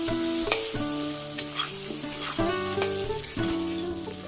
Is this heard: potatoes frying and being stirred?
yes